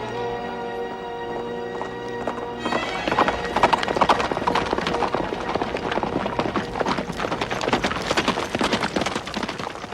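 Horse hooves clip-clop as a horse-drawn carriage gets under way. A sustained droning chord comes first, then dense, rapid hoofbeats at close range continue to the end.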